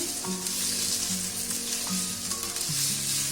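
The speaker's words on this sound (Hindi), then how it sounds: "अब देखिए हमारा जो प्याज है वो सौते हो गया है" Finely chopped onions sautéing in a pan over a medium flame, giving a dense, steady sizzle close up with some faint tonal hum beneath, and no voices.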